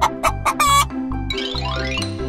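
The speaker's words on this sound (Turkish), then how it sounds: "tavuk," A chicken clucks repeatedly up close, a run of short choppy calls followed by a longer, rising squawk.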